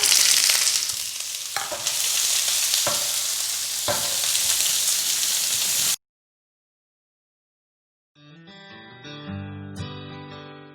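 Chopped onion sizzles in a hot pan while a soya Mongolian dish is cooked, a close, steady frying hiss broken by a few stirring scrapes, then silence and music.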